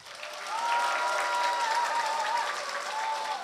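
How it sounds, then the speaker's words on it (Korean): A crowd at a political party rally bursts into sustained applause, a dense wash of many hands clapping that swells quickly and holds steady, with faint cheering in the mix. "여러분에게 화이팅 박수를"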